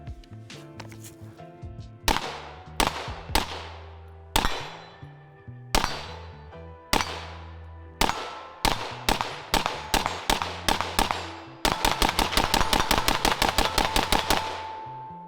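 Suppressed 5.56x45mm rifle shots through a BOE MOD1S suppressor, loud and close. Single shots ring out with decaying tails, then quicken into faster strings and end in a rapid burst of fire.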